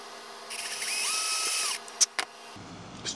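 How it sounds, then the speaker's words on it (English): A power drill whirs in a short, close burst as it bores a fuse hole down the center of a gun cotton firecracker, followed by a couple of sharp clicks and handling knocks. "I'm going to drill it down the center."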